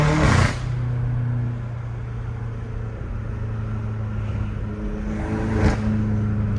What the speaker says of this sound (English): The turbo noise is crazy.